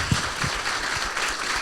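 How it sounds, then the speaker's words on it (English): Applause from a workshop audience at a closing session, a short round of scattered clapping holding steady at moderate level with no voices over it. "If we can just make a little round of applause."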